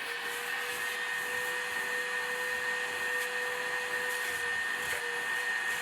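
A vacuum drawing mouse debris out of a tractor cab runs as a steady, loud whine with a constant hum, holding unchanged for the whole stretch with no voices.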